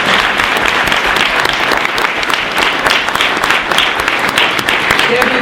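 Loud, sustained applause from the audience at a congressional briefing, dense clapping filling the whole stretch with faint voices underneath.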